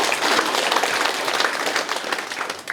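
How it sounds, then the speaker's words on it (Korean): Dense, steady applause from a town meeting audience at a New Year residents' communication day in Andong, South Korea, filling the whole stretch at close range with no talk over it. "큰 박수로 부탁드리겠습니다."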